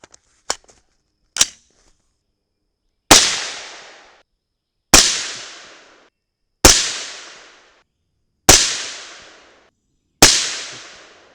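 A 300 Blackout rifle firing 115-grain Lehigh Defense Controlled Chaos bullets: two small ticks and then five sharp, loud shots spaced about two seconds apart, each ringing out into a fading echo.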